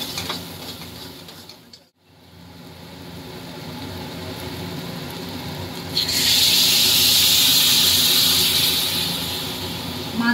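Fish curry broth bubbles and hisses in a pot, a steady rushing boil that briefly drops out, then swells into a louder, brighter hiss for the rest of the stretch.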